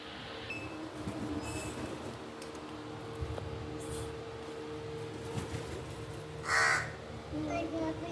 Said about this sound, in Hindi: देखें दीवार पे ज़रा कौवे कितने बैठे हुए हैं।